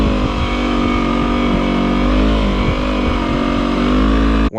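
Yamaha R3 motorcycle engine held at steady high revs through a first gear wheelie, loud and close, the throttle never fully closing, with a brief dip at the very end.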